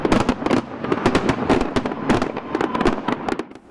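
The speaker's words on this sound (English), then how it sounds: "Butte is known for its big fireworks display." Fireworks burst at a July 3rd display in Butte, Montana, a rapid volley of loud cracking pops and booms following one another in close succession.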